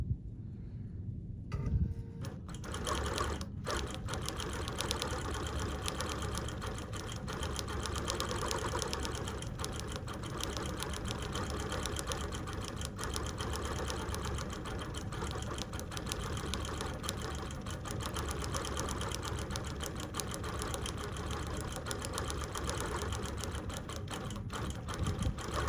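A computerized sewing machine stitches a Penguin Party pattern, with a steady loud motor hum and a fast needle rattle running continuously for about twenty-five seconds after a brief start-up.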